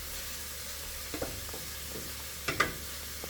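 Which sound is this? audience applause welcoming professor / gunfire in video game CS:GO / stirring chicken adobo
stirring chicken adobo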